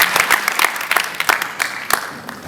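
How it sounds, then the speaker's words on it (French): Audience at an award ceremony for the Mobile Film Festival Africa 2023 claps in a dense, close burst of applause, with sharp individual claps standing out. "Sous vos applaudissements, s'il vous plaît."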